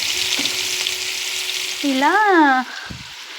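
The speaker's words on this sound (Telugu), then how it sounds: "కొంచెం నూనె చుక్క వేసుకొని ఆవాలు, జీలకర్ర, పచ్చిమిరపకాయలు వేసుకోవాలి" Mustard seeds, cumin and green chillies sizzle in a little oil with a loud, steady hiss and crackle, while a voice briefly speaks over it near the end.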